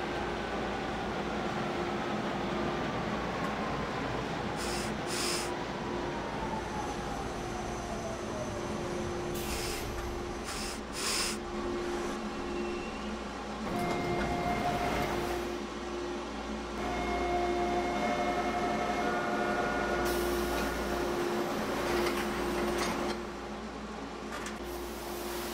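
Interior of a TTC H6 subway train running on Line 2 Bloor-Danforth, a steady rumble and hum with whining motor tones that sweep in pitch, clattering wheel noise and a few sharp bursts, continuous throughout without speech.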